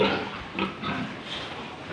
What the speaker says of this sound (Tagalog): Nakapagpainom na rin ng mga baboy, guys. Yan na po sila, oh.